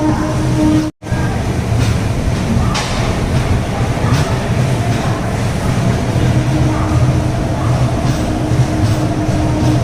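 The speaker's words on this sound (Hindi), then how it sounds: "हमारी ट्रेन की शुरुआत हो चुकी है विजयवाड़ा के लिए" The Uday Express double-decker train pulls away on its run from Visakhapatnam towards Vijayawada. A steady, close rumble of the moving carriages fills the whole stretch, broken only by a brief silent gap near the start.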